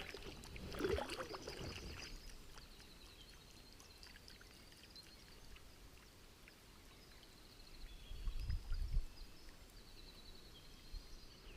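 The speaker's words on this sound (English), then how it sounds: "If you hear the rumbling in the distance, it's the river." The St. John River in Maine rumbles in the distance around a kayak, a faint, steady broadband wash with a couple of slightly louder surges, and no voices.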